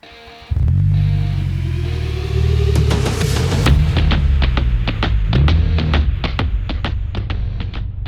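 A 2023 Subaru WRX with a manual gearbox cranks and fires up, then settles into a loud, close, rumbling idle with rising revs and throaty pulses from its exhaust, with no voices over it.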